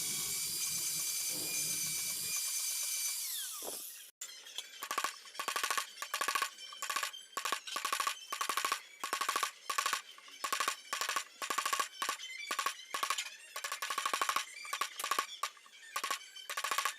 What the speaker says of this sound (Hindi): फिर हमने ग्राइंडर लिया है उसे फिनिशिंग देने के लिए हल्का हल्का।